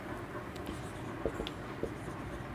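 Pen or chalk writing out a question during a Hindi-language maths lesson on remainders, with faint, soft scratching strokes and a few light taps over a quiet room hum.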